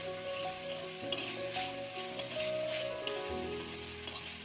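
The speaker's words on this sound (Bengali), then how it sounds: "আস্তে আস্তে আমি ভেজে নিচ্ছি" Fish frying gently in a pan with drumstick flowers, a steady close sizzle and crackle with a few faint stirring taps, no voices.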